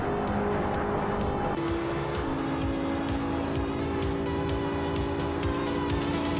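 A 1996 Fiat Coupe Turbo races in a video game, its engine droning continuously as pitch steps shift with gear changes, over a busy bed of tyre noise and other cars.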